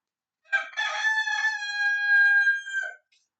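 A rooster crows once, close and clear: a long, drawn-out, strongly pitched cock-a-doodle-doo lasting about two and a half seconds against a silent background, with no talking.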